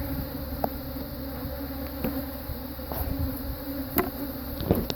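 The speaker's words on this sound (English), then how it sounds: "These are Africanized honeybees at their finest right here" Africanized honeybees swarming around an opened hive during a hive split, a dense continuous buzz filling the air at close range with occasional louder individual bees passing.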